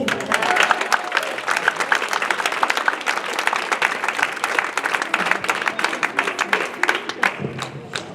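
An audience gives sustained, dense applause for award recipients at a CEB diploma ceremony, steady clapping filling the room for the whole stretch without any talk.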